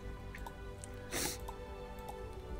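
A single short sneeze bursts out mid-clip, loud and close, over a steady background of game music and ambience during a Starbound playthrough stream.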